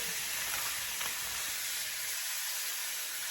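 Steak searing in a pan on a home kitchen stove, a steady close sizzle and hiss that fills the short stretch alone, with no talking.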